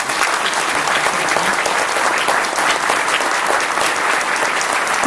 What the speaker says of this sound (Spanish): Vamos a dar un aplauso a nuestros diamantes que están allá adelante.